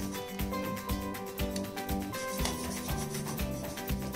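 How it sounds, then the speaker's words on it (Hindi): Potato and paneer rubbed against a hand grater in a home kitchen, making steady, rhythmic rasping strokes that repeat about twice a second, close and fairly loud throughout. "इनको पहले ग्रेट कर लेंगे, आलू को भी और पनीर को, दोनों को इसी तरह से ग्रेट कर लेंगे।"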